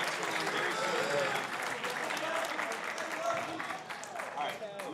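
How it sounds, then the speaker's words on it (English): Audience applauding at a Boys State general election debate, a dense steady round of clapping from a crowded room, with voices faintly mixed in beneath it. "Give a round of applause for these guys right here"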